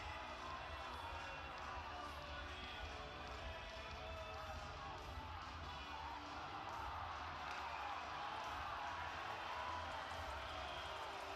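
A hockey arena crowd fills the air with a dense, even wash of applause and murmur during an AHL game between the Hershey Bears and Rockford IceHogs. It holds steady throughout, with no standout voices.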